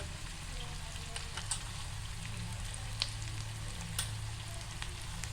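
Cumin seeds, asafoetida and turmeric sizzle in hot oil in a pan, a steady close crackling fry with occasional sharper pops and spits.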